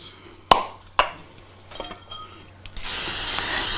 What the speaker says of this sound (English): So we're gonna put some spray in here.